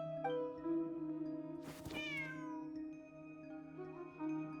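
A cat gives a single drawn-out meow in the Genshin Impact video game, close and clear over a steady low musical drone, with a soft bend in pitch before it trails off.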